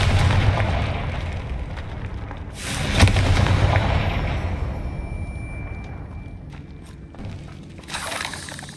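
A Confringo fire spell cast in Hogwarts Legacy, a loud fiery blast with rumbling, crackling burn that swells into a second burst, then fades into scattered clinks and a softer flare at the end.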